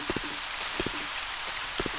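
Steady rain falls in the Resident Evil 2 Remake game, a dense even hiss of drops on surfaces with a few soft low thumps recurring through the background.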